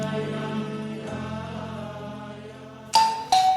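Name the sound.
doorbell chime at the door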